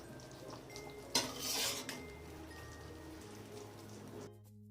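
Sugar is stirred in a pan with a metal spoon, giving a few clinks and a brief louder scraping rush over a faint low hiss before it falls quiet.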